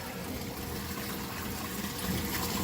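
Water spilling over into a DIY aquarium sump filter and running toward a return pump, a steady close rushing trickle without pause and with no voices.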